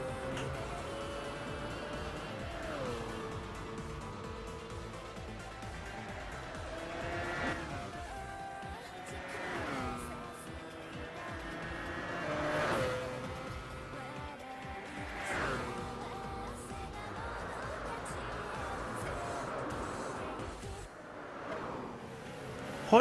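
The Pescarolo prototype race car in a Gran Turismo 6 Le Mans race howls through repeated rising and falling engine revs and gear changes, with occasional tire squeal, loud and continuous.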